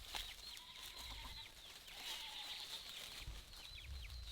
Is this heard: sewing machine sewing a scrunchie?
no